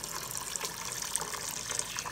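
Water runs steadily from a tap to fill a container, a soft, continuous hissing splash at low volume with no voices.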